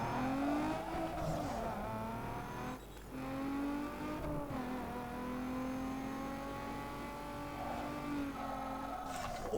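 Race cars in Need For Speed Underground 2 drone steadily with continuous engine noise, pitch dipping briefly at a couple of gear changes, heard faintly and without talk.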